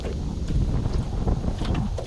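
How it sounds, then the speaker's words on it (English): Strong wind whips across open water at a crappie fishing spot as a storm approaches, a loud, constant blustery rush over the microphone. "this wind is whipping"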